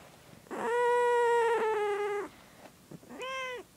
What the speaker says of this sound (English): Because she gets upset when she meows.